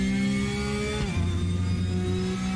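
A Porsche engine in the RaceRoom Racing Experience racing game revs continuously, its pitch dipping and dropping midway as the car runs over a curb on a corner exit, then holding a lower steady drone with whining harmonics.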